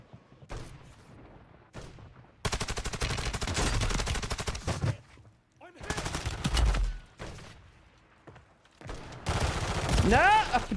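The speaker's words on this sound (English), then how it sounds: "Now I've heard some things about this LMG I am currently holding" LMG machine gun fire in the video game Warzone, a .50 cal weapon, in several sustained loud bursts of rapid shots separated by short pauses, with a person talking between and over the bursts.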